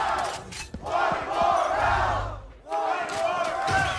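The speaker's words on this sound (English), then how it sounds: "I think that's the first time I've ever heard the crowd rooting against Sentinels." An arena crowd at a Valorant VCT Americas match between Sentinels and FURIA roars and chants in loud, rhythmic surges, with a brief dip before the noise swells again.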